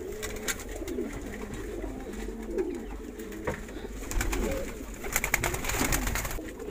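Pigeons nesting on eggs coo repeatedly at close range, soft low warbling calls overlapping one another, with scattered clicks and rustles in the background.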